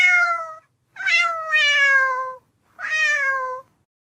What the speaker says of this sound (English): I love that cat.